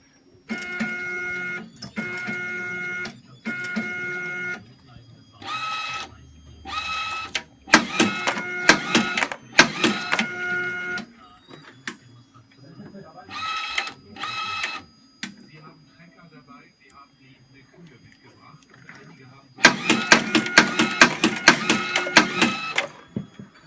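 A LAB400 labeller fitted with a Zebra ZE500 printer runs a 25-piece test, giving repeated bursts of mechanical whirring and clicking in distinct cycles, separated by brief pauses, with a low background hum.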